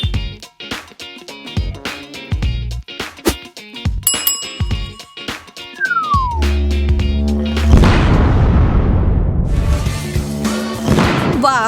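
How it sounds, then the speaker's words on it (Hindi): A fake cake topped with whipped cream bursts in a big loud blast, a dense roaring burst that swells and sustains for several seconds after earlier sharp percussive hits and chimes. "वो धमाका तो मेरी उम्मीद से भी बड़ा था।"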